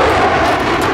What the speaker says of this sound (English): Hostile jet spotted.